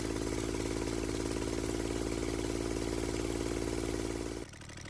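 A small Kubota engine runs steadily with a rough, uneven idle right after a fuel injection pump rebuild, close and loud throughout, then cuts off abruptly near the end.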